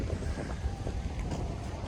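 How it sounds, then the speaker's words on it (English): Strong wind buffets and rumbles steadily at Venice Beach, a low roaring gust noise with no voices. "It's super windy today, so I hope you guys can hear me"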